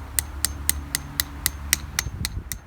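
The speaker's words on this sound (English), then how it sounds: "use your hammer to take a few pounds at it" A hammer drives a metal spile into a maple tree to tap it for syrup: about ten sharp, ringing strikes at a steady, even pace, close and clear, with no talking.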